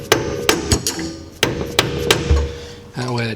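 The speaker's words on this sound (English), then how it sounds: "give it a beat with a mallet, a dead blow" A dead blow mallet strikes a Miata coilover in a series of sharp, close knocks at an irregular pace, about eight blows, with a brief voice at the end.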